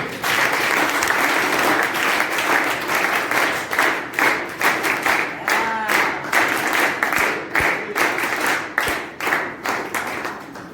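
Classroom of students clapping loudly and close for a classmate who answered correctly: a burst of applause that settles into a patterned, rhythmic series of group claps.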